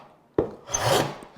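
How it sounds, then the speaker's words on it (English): A hand plane takes a single tapering pass along a board for a sliding dovetail: a sharp wooden knock as the plane is set down, then a brief, close, hissing swish of the blade shaving the wood. "I'm tapering it, planing it narrower at the front, because that's how it has to fit on."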